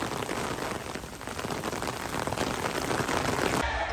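A steady, dense hiss of heavy rain pouring down continuously, broadband and loud, ending abruptly.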